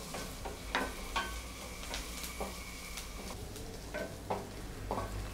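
Ingredients for Tamil uppu paruppu dal gravy are sautéed in a pan, giving a faint, steady low sizzle with occasional light spatula taps and scrapes.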